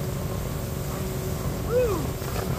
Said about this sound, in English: One last boat ride before we go home.